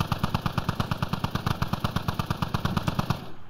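Sustained automatic gunfire in the military shooter Squad, a loud, close, rapid burst of evenly spaced shots rattling continuously for a few seconds with no talk over it.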